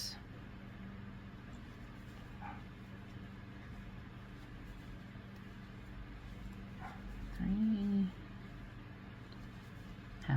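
An outdoor dog barks faintly in the distance a few times, with soft yips near the end, over a steady low background hum; construction is underway across the road.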